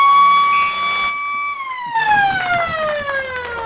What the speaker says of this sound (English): That old air raid siren, it's a thing of beauty out here at Balwyn Visy Park.